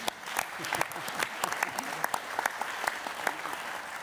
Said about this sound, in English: let's give her an applause first